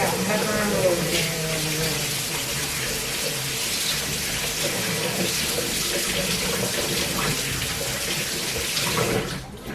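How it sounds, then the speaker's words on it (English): Hands washed under a running kitchen faucet while cooking garlic rosemary chicken, a steady close gush of water splashing in the sink throughout, loud and continuous. "I'm going to wash my hand even the other way. Washing my hand."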